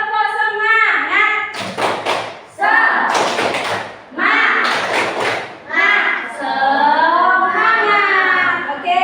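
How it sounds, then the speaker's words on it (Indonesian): Classroom students perform a rhythmic spirit clap, sharp bursts of many hands clapping in a patterned sequence that alternate with loud, close group chanting voices. "Semangat, tepuk semangat."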